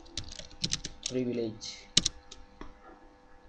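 Irregular clicks and taps of typing on a computer keyboard during work in a router SSH session, fairly close, with someone speaking briefly partway through.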